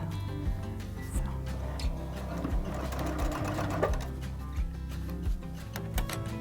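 A sewing machine stitches a fabric caddy, running close and steady with a rhythmic low thump from the needle mechanism repeating roughly every half to three-quarters of a second.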